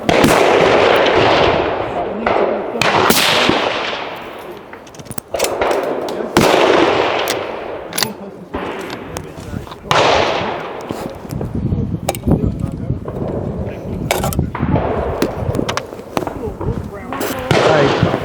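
Guns fire repeatedly at a shooting club range, sharp loud reports cracking out close by at irregular intervals, some in quick pairs, with people talking between and over the shots.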